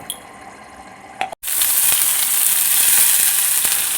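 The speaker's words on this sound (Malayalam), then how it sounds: "കടുകെല്ലാം പൊട്ടി വന്നിട്ടുണ്ട്." Mustard seeds crackle and sizzle in a pan of hot oil for a Kerala bean stir-fry, a close, steady frying hiss with scattered pops after a brief quiet start.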